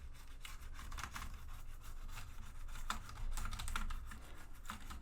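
Dry scratchy scrubbing and clicking on a keyboard, a steady bristly rub with small tapping bursts, close and fairly quiet.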